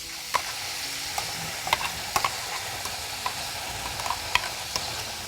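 Cauliflower kadai masala sautéing in a kadai, a low steady sizzle punctuated by sharp clinks and scrapes of a spoon stirring against the pan, with no talking.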